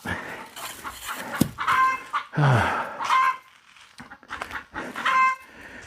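A backyard chicken clucks and squawks in short bursts at close range, with irregular pauses and some panting-like breaths between calls.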